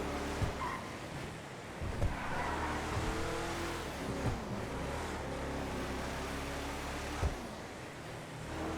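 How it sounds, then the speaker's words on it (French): A vehicle speeds in at full throttle in a video game, its engine a steady loud roar with occasional thumps, heard alone without talk. "Il y a un véhicule qui arrive à toute vitesse, mais je sais pas ce que c'est."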